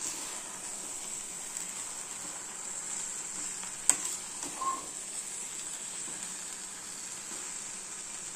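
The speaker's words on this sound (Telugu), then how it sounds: "ఇందులో ఇలా రైస్ మొత్తం వేసేసి ఇప్పుడు కలుపుకోవాలి." Vegetable fried rice being stirred in a pan: a steady low sizzle and frying hiss runs throughout, with one sharp utensil knock and a few faint scrapes near the middle, no voices.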